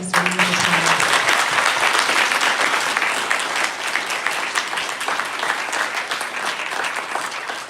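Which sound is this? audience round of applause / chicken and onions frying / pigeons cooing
audience round of applause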